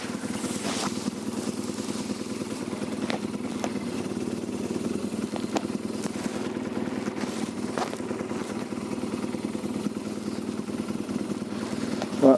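A BMW 1200 GS DOHC motorcycle engine idles and runs steadily, a low continuous rumble with some wind buffeting the microphone.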